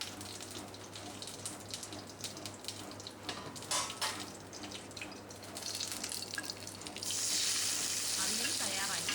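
Curry leaves and mustard seeds sizzle and crackle in hot coconut oil for a Kerala avial, a steady close frying hiss with scattered pops that grows louder and brighter near the end, with faint speech in the background.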